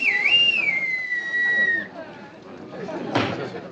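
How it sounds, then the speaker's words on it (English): Bosun's pipe blown by a bosun, a shrill piercing whistle that trills, then holds a long steady note for almost two seconds, followed by a faint background murmur. "I blow the whistle."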